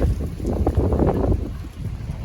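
Dry cold wind blows outdoors, buffeting and rumbling across the microphone in continuous gusts with no speech.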